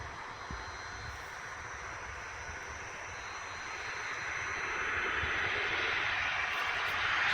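A Panavia Tornado jet comes in to land, its engine noise a broad, distant roar that builds steadily louder toward the end, with no talking.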